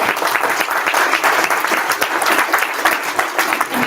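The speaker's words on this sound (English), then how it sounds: "So let's give them another round of applause." A dinner audience applauds warmly, with loud, dense clapping from many hands that continues evenly throughout.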